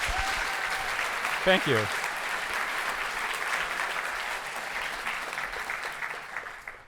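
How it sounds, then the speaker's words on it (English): A conference audience at a Ruby talk gives a sustained round of applause, dense and steady before slowly thinning out, while a speaker briefly says a few words over it. "I want to have a big round of applause for Torsten."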